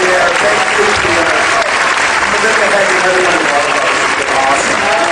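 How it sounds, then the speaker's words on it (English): Audience at a Smallville Comic Con panel breaking into sustained loud applause, dense clapping from a large crowd filling the room without pause, with voices mixed in. "we should all give him a big round of applause"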